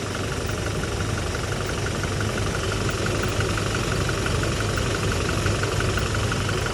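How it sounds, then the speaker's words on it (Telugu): A Toyota Innova Crysta engine with about 150,000 km on it idles steadily, a loud, continuous mechanical hum with a faint knocking texture that stays even throughout, no voices. "ఇంజన్ నాయిస్ని అబ్జర్వ్ చేయండి"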